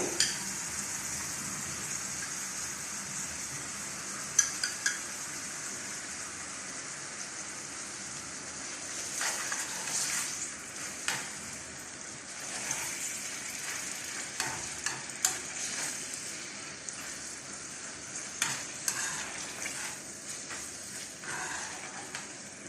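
Steady sizzling of meat, carrots and tomato paste frying in a pan, a broad hiss with occasional stirring clatter and pops, close and continuous, no talking.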